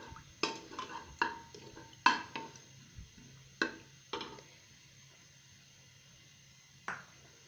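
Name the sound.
ginger garlic paste added and fried in a pot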